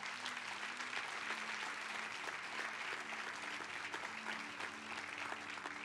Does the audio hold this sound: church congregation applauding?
yes